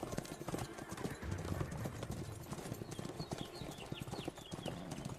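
Horse hooves clip-clop past in a busy camp ambience, the steady clopping fairly close and mixed with a scuffle of background activity and the odd whinny.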